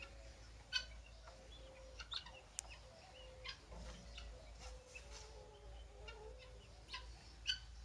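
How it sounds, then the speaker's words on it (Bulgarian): Ordinary black domestic laying hens in a rural poultry yard cluck softly and sporadically, faint and distant over a steady outdoor background hum. "Това са черни кокошки, обикновени домашни черни кокошки, които снасят яйца"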